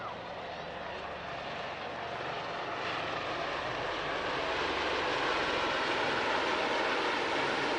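Spanish Air and Space Force Eurocopter EC-120B Colibri training helicopters fly at the Jersey International Air Display, making a steady whooshing engine and rotor drone that grows gradually louder, with a voice faintly present.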